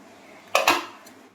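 A metal lid is lifted off a covered pan of lentil pancakes, two quick close clanks followed by a lighter clink, then near silence.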